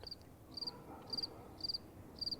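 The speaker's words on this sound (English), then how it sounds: "Crickets." Crickets chirp at night in a steady, evenly spaced pulse of five short trilled bursts, faint and alone against quiet background hiss.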